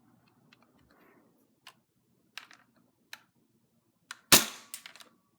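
Nerf blaster modified to fire 0.2 gram airsoft BBs, a few faint clicks and ticks of handling followed by one sharp, loud shot with a brief rattle afterward, close by in a quiet room.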